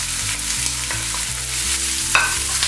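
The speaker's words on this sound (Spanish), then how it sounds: "Y a continuación añadimos la cebolla." Onion sautés in a pan with garlic, a continuous close sizzle under repeated rhythmic stirring strokes, with a single sharper clink near the end.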